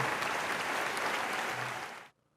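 Audience applause rolls on at a steady, fairly loud level for about two seconds, then stops abruptly and leaves near silence.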